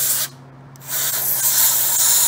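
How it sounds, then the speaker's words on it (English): Aerosol spray can, shaken first, hissing into an upturned Meta Quest 2 VR controller to fix thumbstick drift; a steady, close, loud hiss with a brief pause before resuming, no talk. "a good spray at first."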